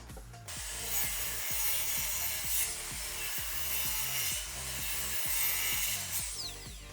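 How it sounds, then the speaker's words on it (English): A miter saw with an ordinary wood blade cuts slingshot pieces from plywood held in a laminated plywood jig, its motor whirring steadily while repeated rhythmic ratcheting chops sound up close through the whole span. "Now this miter saw is only using an ordinary wood saw blade"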